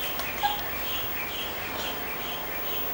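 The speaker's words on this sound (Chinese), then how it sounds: "外面有小鸟在叫。" Birds chirp outside in a few faint, brief calls over a steady hiss of indoor background noise, with no talking.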